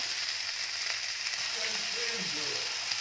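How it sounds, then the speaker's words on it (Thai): Filling for a stuffed pumpkin stir-fried in a pan, giving a steady, fairly quiet sizzle with a faint broadband hiss and occasional scraping stirs throughout. "ในระหว่างที่เราผัดเดี๋ยวค่อยเอาไป ยัดใส่ในฟักทอง"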